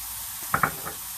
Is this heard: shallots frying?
yes